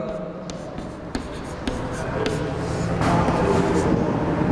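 Chalk or marker writing on a board during a Class 11 chemistry lesson, a steady run of light scratchy strokes with small taps, close and continuous with room noise underneath.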